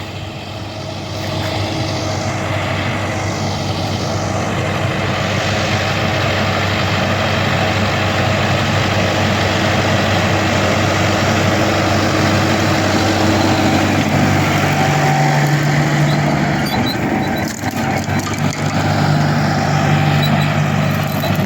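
A large tractor engine runs steadily in a farm field after flooding, a loud, continuous low drone with a faint rising whine partway through and no talk.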